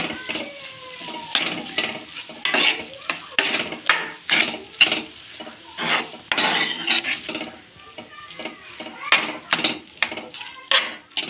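Cooked rice is stirred into fried grated raw mango in a pan for mango pulihora, with repeated scraping strokes of a spoon against metal in an uneven rhythm and a light sizzle underneath.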